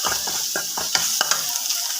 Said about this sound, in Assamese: কেৰাহীখিনি তেলটো গৰম তাৰ পৰাই জলকীয়া আৰু নহৰু পেষ্টখিনি দিম।